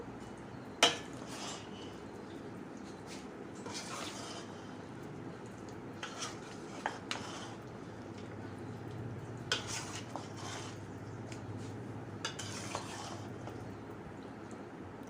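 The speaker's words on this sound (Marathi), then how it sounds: "छान अशा लसणाच्या पाकड्या मिक्स करून घेतलेल्या आहेत मी लोणच्यामध्ये" Garlic cloves being stirred into homemade mango pickle, with scattered light clicks and scrapes of a spoon against a dish, quiet and close, set apart by short pauses.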